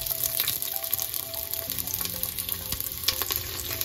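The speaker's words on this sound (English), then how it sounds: "Saute the onion until it's cooked." Onion sautéing in hot oil in a hot pot makes a dense, continuous sizzle that stays loud throughout, with faint tonal hum and clinks underneath.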